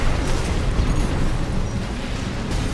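Heavy, continuous blasting from a plasma rifle in Armored Core 6 player-versus-player mech combat, a dense loud roar of booming bursts with no clear gaps, alone without speech.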